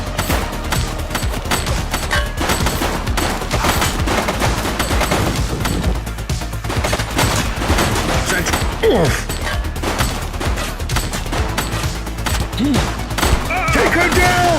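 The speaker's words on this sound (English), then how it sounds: "He's shooting!" Rapid, sustained gunfire in the police video game The Precinct: dense bursts of shots crackle almost without pause for the whole stretch, loud and close, layered over game ambience with faint voices underneath.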